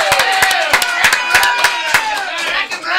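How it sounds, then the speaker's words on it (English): A small live studio audience at a talk show bursts into close, loud applause, a dense run of individual hand claps lasting a few seconds with a few voices mixed in. "Let's have a round of applause for this guy."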